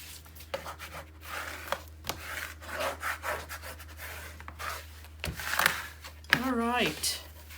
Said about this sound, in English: let's give a good burnish going here.